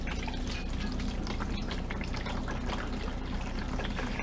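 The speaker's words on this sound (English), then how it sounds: "we are gonna fill our fermenter to the number one or four quart line" Water running into a plastic beer fermenter, a continuous close splashing trickle with bubbling as it fills, steady throughout.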